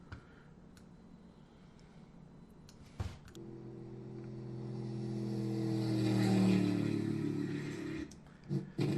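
A library sound effect of a boat passing: a low motor hum comes in suddenly, swells to a peak at close range, then fades as the boat goes by, with no voices.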